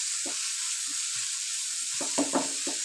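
Spices and tomato fry in a hot pan with a steady bright sizzle, while a spoon stirs through them in several short scraping bursts toward the end, close and moderately quiet.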